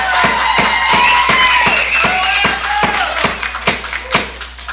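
A board meeting audience applauds with scattered, rhythmic claps and a few cheers, loud and close, the clapping thinning toward the end.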